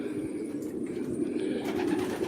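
Pigeons coo continuously in a low, throaty murmur that stays steady and close throughout, with no talking.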